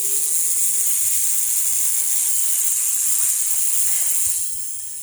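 A homemade DC motor with a weak magnet spins down freely, giving a steady hiss and whir that stays even for several seconds and then fades slightly toward the end.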